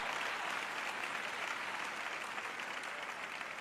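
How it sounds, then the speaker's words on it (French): A small group of people applauding during a church sermon, a steady even patter of clapping that fills the whole moment with no speech over it. "j'ai 3 personnes qui applaudissent là-bas"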